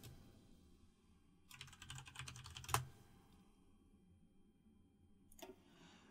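Keys clatter on a computer keyboard in a quick burst of typing, then a single sharp click and a short final tap, near and quiet against a low background hum with no speech.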